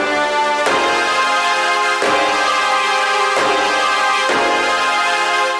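Four bright brass stabs from a VST plugin with extra layers switched on, each a loud, sharp chord hit that rings out and decays, spaced roughly every 1.3 seconds with no voices.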